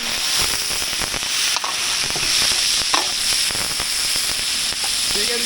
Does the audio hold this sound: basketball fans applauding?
no